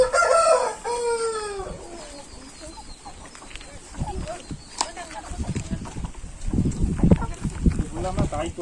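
Native country chickens on a poultry farm, with a rooster crowing loudly up close and then scattered clucking and scratching; people talk over the birds.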